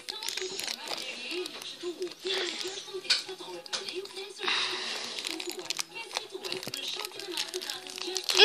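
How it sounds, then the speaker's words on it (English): A plastic wrapper being peeled and crinkled off a My Little Pony toy, with repeated close crinkling and tearing bursts while someone talks over it. "Took the wrapper off."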